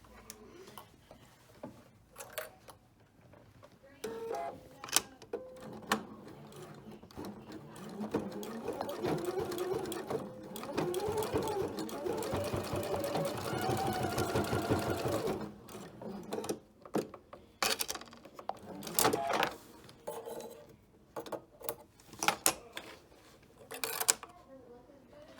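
Sewing machine tacking down the corners of a hip purse, a sustained whirring run in the middle with short stitching bursts and mechanical clicks around it, heard close amid handling noise and speech.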